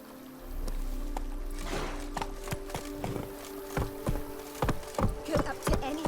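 Hooves of Roach the horse in The Witcher 3, a run of irregular clip-clop strikes that grow louder and quicker toward the end over a low steady background rumble.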